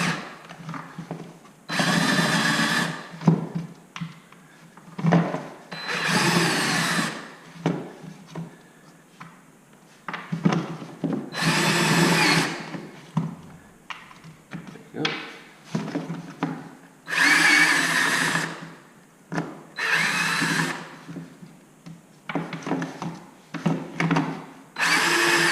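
A power drill bores into a Honda CRF250L motorcycle's airbox cover from the outside, whirring loudly in about eight separate bursts of a few seconds each, with quieter gaps between them.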